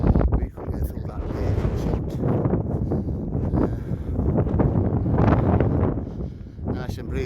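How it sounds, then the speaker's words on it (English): Steady breezy wind buffets the microphone outdoors on a walk toward Ribblehead Viaduct, a continuous rushing rumble throughout with a person talking over it. "Nice and breezy again."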